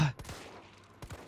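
Gunshots are fired in the video game Resident Evil 3. Two quick pairs of faint, distant pops come about a second apart, with quiet in between.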